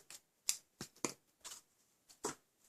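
Scissors cut through a length of ribbon while making Christmas tree ornaments, a handful of short, crisp snips at an uneven rhythm, close and quiet with brief pauses between.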